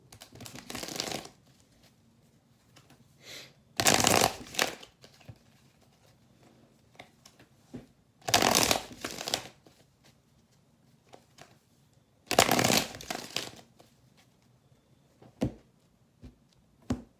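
Tarot cards shuffled in several separate bursts of riffling and rapid papery patter, each lasting about a second, with quiet pauses between them and faint handling sounds.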